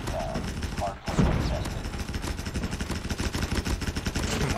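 Rapid submachine-gun fire from a PP Bizon in Call of Duty Mobile ranked play, dense repeated shots running through the whole stretch with voices talking over it.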